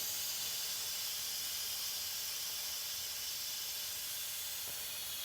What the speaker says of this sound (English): let it keep releasing until I don't hear it hissing anymore, or if I can still see steam coming out of it